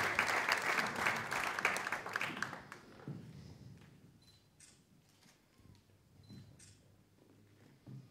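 An audience at an awards gala applauds loudly for about three seconds, then the clapping dies away into a quiet hall with scattered camera clicks and light taps, a brief patter returning at the end.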